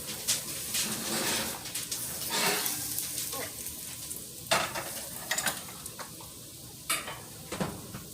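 Green beans and shallots sizzle steadily in a pan while a utensil stirs them, with scraping clatters and a few sharp knocks against the pan over a continuous frying hiss; no one speaks.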